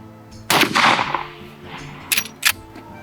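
Loud, close rifle shot from a .44 Magnum or .45-70 striking a pumpkin outdoors: one sharp report with a short decaying tail, followed about a second and a half later by two brief, fainter sharp bangs.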